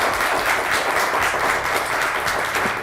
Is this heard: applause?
yes